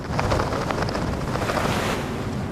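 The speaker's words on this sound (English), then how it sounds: "As you can see from the waves and the strength of the wind that's blowing now" Strong wind buffets the microphone over breaking waves on the Great Salt Lake near Salt Lake City, a steady loud roar of surf and gusts with no speech.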